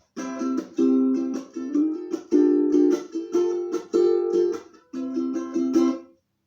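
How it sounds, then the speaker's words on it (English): Ukulele strummed in short bursts of bright, high chords with brief pauses between phrases, close and alone. "A ukulele is like a baby guitar."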